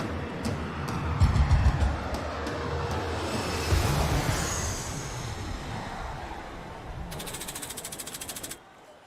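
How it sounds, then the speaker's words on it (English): Subway train rumbling through a large underground metro system, a steady broad roar that swells and fades, ending with a rapid rhythmic clatter of wheels over rail joints before cutting off. "Dude, that is a huge subway system."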